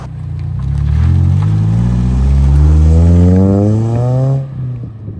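A Toyota Celica engine revs and accelerates steadily on the road, its pitch climbing through the gears, loud and close, then drops off abruptly near the end.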